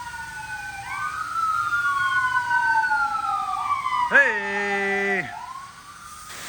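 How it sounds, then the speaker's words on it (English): Emergency vehicle sirens wail past a car wash in Barstow, rising and falling tones sweeping through continuously, with a sharp electronic yelp burst near the end; a voice calls out briefly over the noise. "There's my Barstow sirens."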